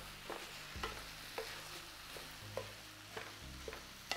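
Rice seasoned with Cajun spice frying in a pot while being stirred, with a faint steady sizzle and soft rhythmic scrapes of the spoon roughly every half second, no voices.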